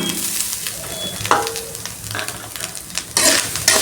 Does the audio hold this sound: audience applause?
no